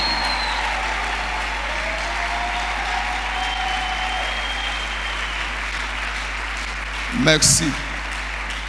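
Applause from a church congregation fills the space as a steady, broad wash of clapping, with a voice speaking over it and a short louder burst near the end.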